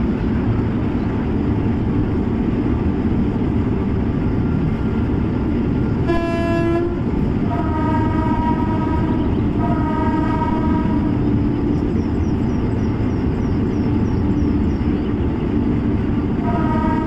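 An Indian passenger train in a Train Simulator game rumbles steadily along the rails while its horn sounds several times in short blasts, loud and close.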